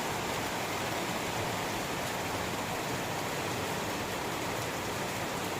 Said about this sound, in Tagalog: Habang tumatagal, lumalakas ang ulan at may hangin pa.